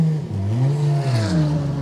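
A Porsche race car in a South African endurance series event drones behind, with an engine note rising and falling through gear changes under the steady whir of the onboard car.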